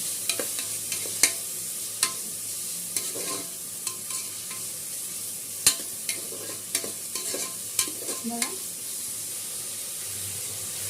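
Chopped tomatoes, onions and green chillies fry for mutton keema curry, giving a steady soft sizzle with scattered stirring clinks and scrapes of the spoon against the pan, close by and with no talk.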